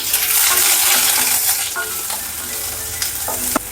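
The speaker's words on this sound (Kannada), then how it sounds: "ಇವಾಗ ಚೂರೇ ಚೂರು ಎಣ್ಣೆ ಹಾಕೊಂಡು ಈರುಳ್ಳಿ ಹುರ್ಕೋತೀನಿ." Onions fry in a small amount of oil in a pan, a steady close sizzle with scraping stirring and occasional clinks, no voices.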